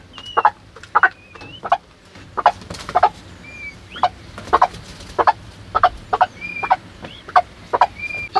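A mother hen and her chicks, the hen giving repeated short clucks in uneven bursts, close and clear, while the chicks peep softly in the background.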